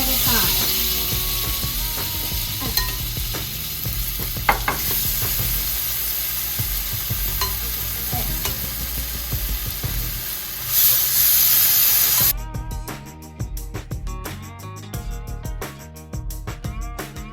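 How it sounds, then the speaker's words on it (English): Oxtails searing in a hot pot give off a steady sizzling hiss with scattered crackles and clinks; the sizzle runs for most of the stretch before quieter musical sounds take over. "So now we're gonna add the oxtails to the pot."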